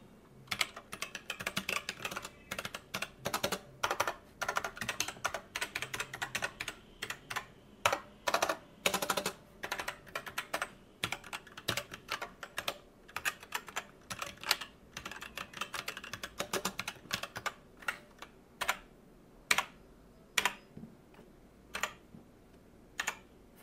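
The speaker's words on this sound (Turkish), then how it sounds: "Klavyenin o zaman bir tuş seslerine birlikte göz atalım." Rapid typing on an Everest KB-MK7 mechanical gaming keyboard, crisp clacky keystrokes in irregular bursts with short pauses, close and clear, no voices.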